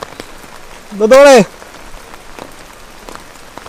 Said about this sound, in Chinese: 虽然现在下雨，但是算蛮热的